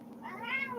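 A cat gives a single drawn-out meow, rising then falling in pitch and fairly close, with no talk over it.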